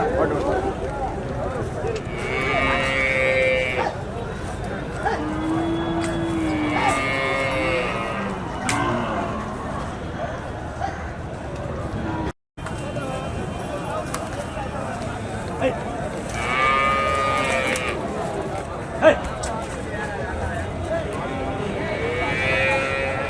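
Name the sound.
cattle at a native cattle market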